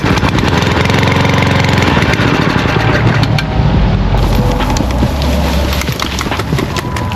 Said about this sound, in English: old school method how to start lawnmower after winter